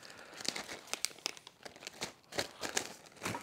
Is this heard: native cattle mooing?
no